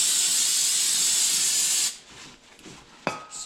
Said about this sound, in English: spray the caliper off a little bit.